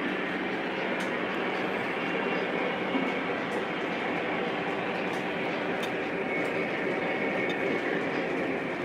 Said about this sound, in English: now we got our steel train